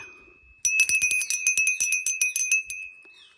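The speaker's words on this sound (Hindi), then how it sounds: "छोटी सी घंटी है।" A small temple bell rings in a quick, steady series of bright chimes for a couple of seconds, close and clear over an otherwise quiet background.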